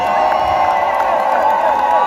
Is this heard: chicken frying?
no